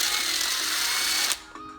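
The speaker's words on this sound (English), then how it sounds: "Grind it down using the drill." A power drill grinds down an LS engine fuel injector, a loud steady high whine running for over a second before cutting off abruptly, followed by brief quieter mechanical rattles.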